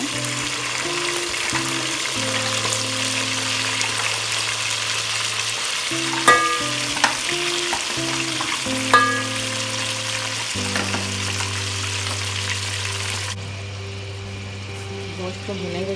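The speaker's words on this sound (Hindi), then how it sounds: "अब हम इसमें डाल रहे हैं ये अपना तमाम गोश्त जो हमने रखा था, इसको हमने फ्राई करना है।" Mutton pieces dropped into a pot of browned onions and frying, a loud continuous sizzle close up with a few sharp clinks of a utensil partway through, easing off toward the end.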